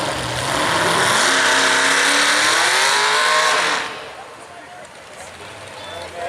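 An alcohol-fuelled modified mini race car engine at a dirt-track event roars loudly with rising revving tones for several seconds, then fades as the car passes away, leaving distant crowd and track ambience.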